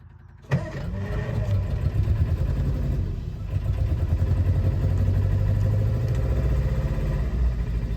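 A 1952 Triumph Mayflower car engine cranks and fires abruptly after a brief quiet moment, then settles into a steady, close, low rumbling idle that holds for the rest of the clip with no talk.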